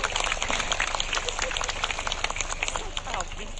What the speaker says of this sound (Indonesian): tepuk tangan buat Pak Bupati kita sama Ibu